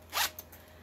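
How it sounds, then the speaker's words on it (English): A wallet zipper is pulled once in a brief, close, crisp zip, followed by a faint second tick. "Zippers work great."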